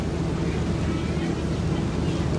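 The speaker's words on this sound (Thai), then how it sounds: "แล้วก็ลมมาแรงด้วยนะครับ" Strong wind from a rainstorm sweeps through an outdoor mor lam concert site. It comes as a steady, loud, low rumble that buffets the microphone without pause.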